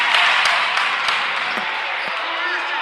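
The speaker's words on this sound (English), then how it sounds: "The crowd is going nuts here at the Raider Rock Gym." A packed crowd roars and cheers at a varsity high school basketball game in the Raider Rock Gym, steady and loud throughout, with sharp ball bounces cutting through and an announcer talking over it.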